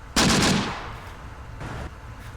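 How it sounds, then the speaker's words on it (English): Close Combat video game gunfire from a .30 caliber machine gun: one loud, sharp burst near the start that rings out and decays, then a quieter second burst further on, with no talking. "let's see just how effective the 30 cal machine gun is in this position"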